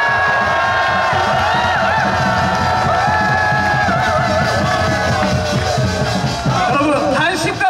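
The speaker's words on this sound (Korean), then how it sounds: "큰 박수 부탁드리겠습니다" Large outdoor political rally crowd cheering, with loud whoops and shouted calls layered over a steady hubbub, continuous throughout, while amplified music with melodic tones plays underneath.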